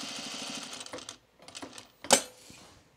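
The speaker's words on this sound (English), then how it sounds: "Now we're gonna sew around our square and we're gonna drop down our stitch length again." Sewing machine stitching fabric for trousers, a close rapid run of needle clatter that stops, restarts briefly, then ends with a sharp metallic click.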